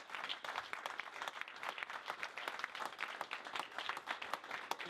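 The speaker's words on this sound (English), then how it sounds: "Let's give him a big round of applause." A room full of people applauds during a sales meeting, dense and continuous clapping that holds at an even level for about five seconds, fairly close, with no talking over it.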